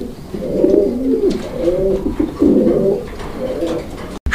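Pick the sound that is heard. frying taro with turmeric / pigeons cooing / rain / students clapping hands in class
pigeons cooing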